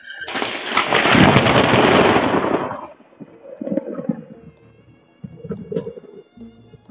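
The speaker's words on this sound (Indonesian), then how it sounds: "Jadi sekarang ki hujan dulu nih." Afternoon rain with thunder: a loud, close rumbling crash swells and fades over a couple of seconds, then softer thunder rolls and bursts of rain return in uneven waves, with no voices.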